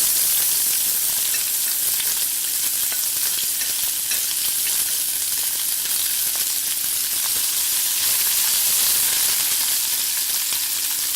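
Chopped onions saute in a pan with oil, a loud, dense, continuous sizzle with faint stirring scrapes throughout and no voices.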